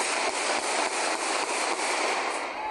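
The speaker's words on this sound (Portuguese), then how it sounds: "As bombas e tiros podiam ser ouvidas no meio da confusão." A dense, rapid crackle of sharp explosive pops and bangs from bombs and gunfire amid street unrest, continuous and harsh at a distance.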